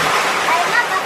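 Heavy tropical downpour flooding a street outside a store in Angeles City, Philippines, with water rushing past as a loud, steady broadband wash and no break.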